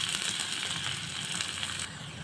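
Steady, dense sizzling of tempering spices frying in hot oil until lightly reddened, close up and continuous, easing slightly softer near the end.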